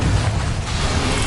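A Confringo blasting curse erupts in Hogwarts Legacy, a dense, continuous roaring rumble of explosive noise that stays loud throughout.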